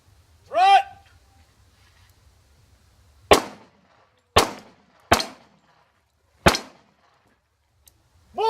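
Gunshots ring out during a shooting drill: four loud, sharp reports at uneven intervals, each with a short echoing tail. A shouted voice comes just before them and again at the end.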